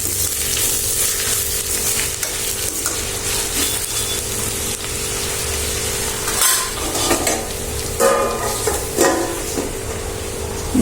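An egg fry with onions is stirred in a hot pan: constant close sizzling overlaid with repeated metal spatula scrapes and clatters against the pan, busier toward the end.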